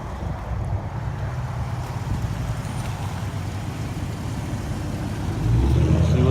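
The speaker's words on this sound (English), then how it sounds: "Motor sounds good." An auctioned vehicle's motor idles outdoors in a steady low rumble with some wind noise, swelling louder near the end; nobody speaks.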